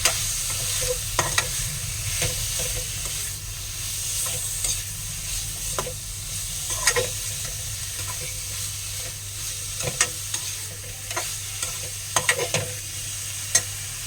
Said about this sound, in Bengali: লঙ্কার গুঁড়ো দেব, এবারে এটাকে নাড়ব।